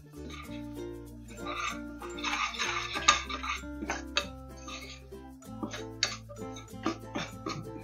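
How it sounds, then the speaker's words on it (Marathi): Onion-garlic masala with garam masala being sautéed in a pan for matar usal, a soft sizzle broken by sharp clinks and scrapes of the spatula against metal, nearby, with no speech. "आपण हे छान मसाला परतून घेऊया"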